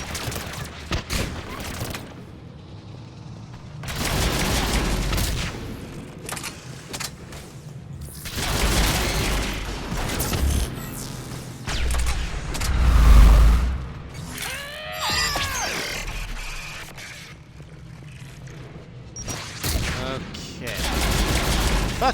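Rockets and gunfire in the video game Mass Effect 3, during the Rannoch Geth Dreadnought mission, come as repeated loud bursts and booms with rattling volleys spread across the stretch.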